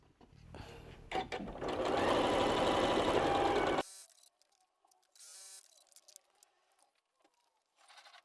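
A sewing machine stitches quilt block side, top and bottom pieces with quarter-inch seams, running in a loud steady burst for about two seconds before it stops, followed by quieter handling noises.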